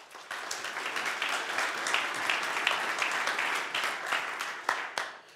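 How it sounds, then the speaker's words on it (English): A biotech talk audience gives speaker David Berry of Flagship Pioneering a sustained round of applause, a full, even wash of many hands clapping for several seconds. "Please, a round of applause for David."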